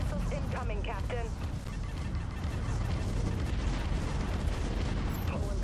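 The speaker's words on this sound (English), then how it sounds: "Enemy missiles incoming, Captain." Enemy missile explosions in the naval combat game Dreadnought form a loud, continuous rumbling barrage of blasts, with speech at the start.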